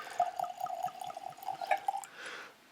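Benchmark bourbon poured into a glass, heard as a close, continuous trickling and glugging of liquid for about two seconds, ending in a soft splash without any talk.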